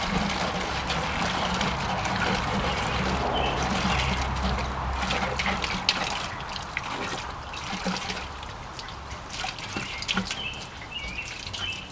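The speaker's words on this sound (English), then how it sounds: "I'm going to take a 5-gallon bucket and I'm going to dump the gas in the thing. Sloshing around while I do it." Gasoline from an old gas tank is dumped into a 5-gallon bucket, a steady, close, rushing slosh of liquid for several seconds that then thins to lighter splashes and trickles.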